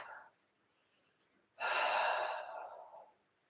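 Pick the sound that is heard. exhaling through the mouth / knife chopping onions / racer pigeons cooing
exhaling through the mouth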